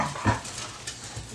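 An indoor dog gives a short whimper, one brief close whine with faint quieter sounds after it.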